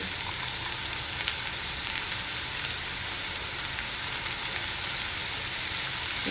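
Bell peppers and onions sauté in a pan with an even, continuous soft sizzle and hiss, with no talking.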